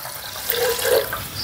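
Water runs steadily from a tap into a cooking pot of meat for pulao, a soft continuous splashing pour lasting a moment, close by with no talking.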